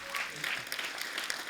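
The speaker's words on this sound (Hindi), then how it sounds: "जोरदार तालियां हो जाए एक बार हमारे अतिथियों के लिए।" Studio audience applause for guests on a comedy show: a brief, steady burst of dense clapping that fills the whole moment, with some voices mixed in.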